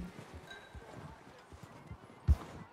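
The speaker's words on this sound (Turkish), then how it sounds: "Atları buraya bırakalım diyor." Horses clip-clop slowly on the ground in a snowy Wild West game setting, soft irregular hoof steps with a sharper thud near the end.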